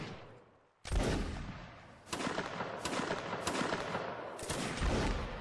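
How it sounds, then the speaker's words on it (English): Musket line volleys in the Napoleonic Wars video game: a sharp ragged crackle of many muskets firing together, then further staggered volleys and scattered shots rolling on in quick succession, loud and continuous. "Shoot the line fire away."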